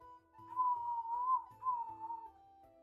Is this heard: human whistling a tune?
yes